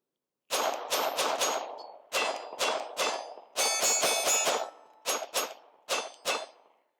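A Glock 43X pistol fired from a steel 15-round magazine, sharp cracks with a metallic ring coming in quick clusters of two to four shots and one faster run, about sixteen reports in all.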